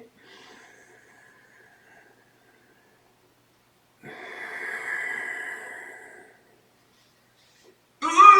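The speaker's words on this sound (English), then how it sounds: "Breathe out first. Deep breath in." Ujjayi pranayama breathing is heard as a faint exhale, then silence, then a long, audible, hissing deep inhale lasting about two seconds, close and alone.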